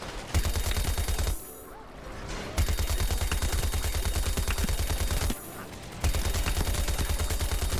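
Rapid, even gatling gunfire in Plants vs. Zombies: Garden Warfare 2 rattles out in long steady bursts, briefly pausing twice before resuming at the same fast rhythm, loud and close.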